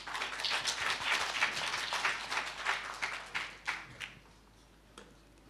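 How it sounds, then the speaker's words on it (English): Applause for a panel at an innovation forum, a moderate crowd clapping with distinct individual claps audible, tapering off into scattered last claps and near silence by the final seconds. "Big round of applause for our panel."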